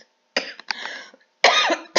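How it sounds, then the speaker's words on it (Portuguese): A woman with the flu coughs several times in short, harsh bursts close to the microphone, with brief silent gaps between fits. "Desculpa, gente, eu vou tossir, estou gripada."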